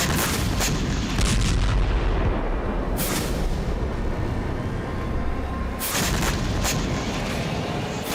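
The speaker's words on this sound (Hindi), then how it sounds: "इसके बाद क्रीमिया के कई इलाकों में एक साथ धमाके गूंजने लगे" Explosions from attacks on Crimea at night, a dense continuous rumble of booms and blasts with sharper bursts recurring, loud and sustained throughout with no talk.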